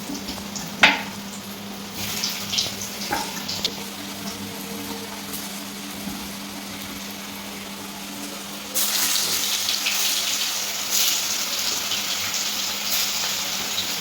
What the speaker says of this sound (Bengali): আলুর গায়ে ভালো করে মাখিয়ে সেগুলো তেলে একটু ফ্রাই করে নিতে হবে